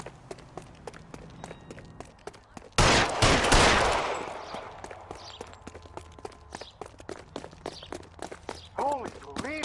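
Gunfire in the video game L.A. Noire: a dense, loud burst of rapid shots lasts about a second and then rings out, surrounded by quick running footsteps, with a voice briefly heard near the end.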